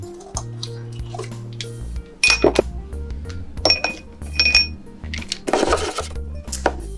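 Dry baking soda and baking powder measured out with a metal teaspoon, giving a few soft clinks and light scraping taps against containers over a steady low background hum.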